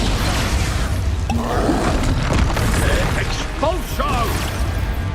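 In Hogwarts Legacy, the Expulso explosion spell goes off amid a spell-casting fight: loud, continuous rumbling blasts and crashes under a dense mix of combat effects, with short vocal cries rising over the din.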